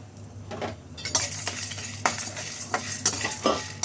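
Dried red chillies with a little lentil being stirred in a pan, a metal spoon scraping and clinking in quick repeated strokes over a soft background sizzle.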